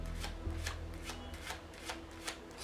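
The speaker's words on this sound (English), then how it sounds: "Then he shuffles normally until he reaches the break." Playing cards are riffle-shuffled by hand, giving quiet, crisp bursts of fluttering card edges at a steady rhythm during a poker card-stacking demonstration.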